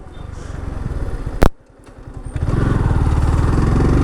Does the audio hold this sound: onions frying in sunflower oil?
no